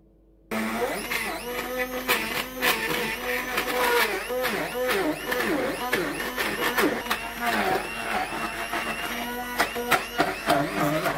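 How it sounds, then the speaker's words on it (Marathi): An electric hand mixer churns very thick chakka for homemade fruit khand, its motor whirring unevenly and straining as the beaters drag through the dense curd, someone talking now and then over the continuous close buzz. "आता हे मी हँड मिक्सीने एकत्र करून घेते।"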